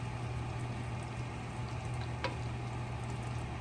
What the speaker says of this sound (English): Do you see that gentle bubbling?